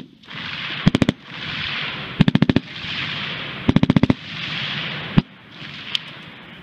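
Full-auto C9 squad light machine gun fired on a range in short bursts of about five or six rapid shots, with a single shot near the end, loud and close over steady outdoor background noise.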